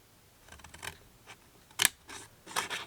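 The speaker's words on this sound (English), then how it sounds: "I'm going to cut to the left of the score line" Scissors snip through card stock while building an A2 card box, a few close, crisp cuts, the sharpest near the middle and a pair of quieter snips toward the end.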